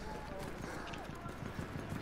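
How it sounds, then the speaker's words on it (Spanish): Horse hooves clip-clop in the video game Battlefield 1, a quick rhythmic patter mixed with game noise while people talk over it. "Cuando te subes al caballo."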